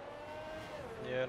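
Racing cars running on track during a qualifying session, including a Williams, with a steady engine drone under commentary voices that swells toward the end as a car draws closer.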